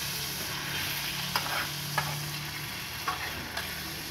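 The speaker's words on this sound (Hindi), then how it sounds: "अब इनको अच्छे तरीके से मिक्स कर लेंगे आपस में" Macaroni stirred with chilli sauce in a pan, a soft steady sizzle under a few light scraping and tapping strokes of a spoon against the pan, with no talking.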